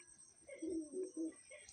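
Soft cooing of a small Madrasi pigeon in a loft, a few low murmuring coos in short bursts, close and fairly quiet.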